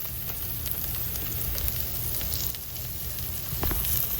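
BBQ ribs sizzle steadily on a grill, a dense, continuous crackling hiss that holds at an even level throughout, close and alone with no talking.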